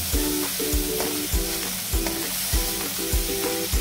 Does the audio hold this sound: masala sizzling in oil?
yes